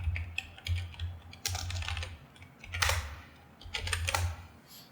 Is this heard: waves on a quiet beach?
no